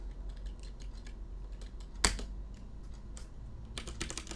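Close computer keyboard typing while a Python test file is written, with quick bursts of light key clicks, short pauses between them and one sharper, louder tap partway through, with no talking.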